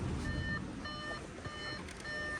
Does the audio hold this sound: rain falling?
no